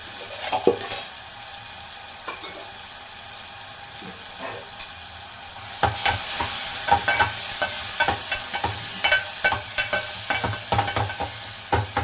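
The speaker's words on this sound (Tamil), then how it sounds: "தக்காளியை எண்ணெயில் வதக்கிட்டு கரைக்கலாம்." Grated tomato sautéing in hot oil with pepper, cumin, garlic and asafoetida, a steady sizzle that grows louder about halfway through as a spoon stirs and scrapes the pan in quick irregular strokes.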